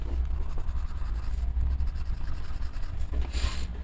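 Colored pencils scratch and rub continuously across paper in an A5 coloring book, a close, steady scraping with rhythmic strokes and a brighter burst near the end, and no talk.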